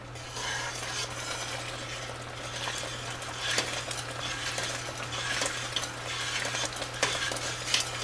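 A thickening rhubarb mixture cooks in a pot, giving a steady bubbling hiss with intermittent spoon scrapes and clinks against the pot, close and moderately loud, under a constant low electrical hum; nobody talks.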